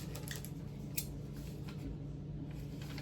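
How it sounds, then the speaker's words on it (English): Quiet scissors snipping paper, a few soft crisp cuts over a low steady background hum, faint and close with no voices. "what I'm going to do is find my scissors"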